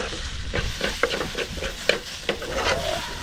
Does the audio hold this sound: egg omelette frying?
yes